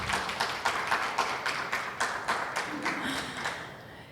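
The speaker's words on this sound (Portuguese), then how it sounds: "Palmas para os nossos atores." Applause for actors at a Christian gathering, a small crowd clapping in a fairly even rhythm about twice a second, steady and moderately distant throughout.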